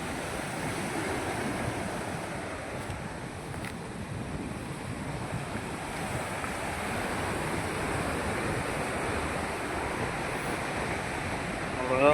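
Sea waves wash onto the shore in a soft, continuous surge and hiss from nearby, with wind buffeting the microphone throughout.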